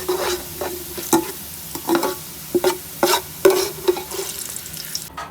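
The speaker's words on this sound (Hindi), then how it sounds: "ये देखिए प्याज फ्राई हो गई है" Onions fry in a pan for a chicken biryani, with a close, crackling sizzle under repeated scraping strokes of a spoon stirring them, a few strokes per second, with no talking.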